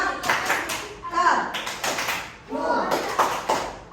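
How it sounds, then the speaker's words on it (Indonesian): A classroom of primary school pupils does a rhythmic clapping cheer for group 2, several bursts of fairly close claps with voices mixed in. "tepuk oke untuk kelompok 2"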